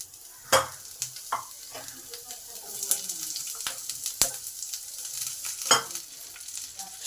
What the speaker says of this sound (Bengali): এবার ক্যাপসিকামগুলোকে ভেজে নেব।